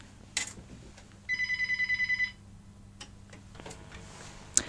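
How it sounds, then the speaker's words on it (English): A telephone rings in a radio studio, a rapid electronic trill of about ten even pulses lasting a second, with a few clicks and faint handling noise around it. "I think my phone's going to ring"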